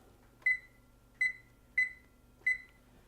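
Four short, bright electronic beeps ring out close and clear at an irregular, steady pace as an oven timer is set, with quiet room tone between them.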